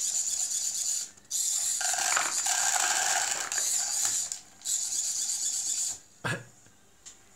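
An Arduino and esp8266 pet feeder's dispensing mechanism runs in several short bursts of whirring, rasping motor and rubbing noise, fairly quiet and close, with brief gaps between runs.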